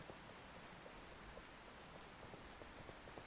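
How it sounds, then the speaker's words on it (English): Heavy rain in the video game Outbrk pours down steadily across a field in the foothills, a dense, continuous hiss with scattered sharper drops pattering throughout at a constant loud level. "that's the rain beginning to get hard"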